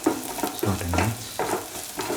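Salt being stirred into an egg mixture in a pan, with soft scraping strokes in a slow rhythm over a light sizzle, up close and with no voices.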